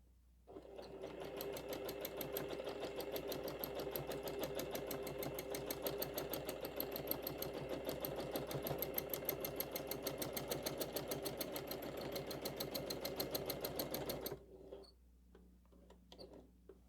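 A sewing machine stitches free-motion quilting on a tree design, a fast, even needle chatter running steadily for about fourteen seconds, close and alone, then stopping.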